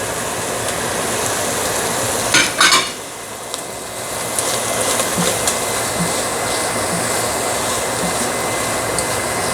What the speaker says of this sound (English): I can go in now with my peppers, my hot peppers